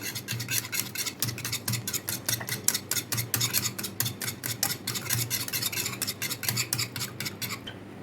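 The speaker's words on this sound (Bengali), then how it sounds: "এবার আরেকটু ভালো করে ফেটিয়ে নেবো" A whisk beats mango ice cream mixture in a bowl with a fast, steady clatter of metal tapping the sides, close and continuous for the whole stretch, with no talking.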